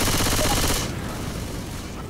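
Gunfire in the co-op zombie shooter Left 4 Dead: a loud, rapid automatic burst cuts off abruptly, leaving a quieter rumble of continued distant shooting.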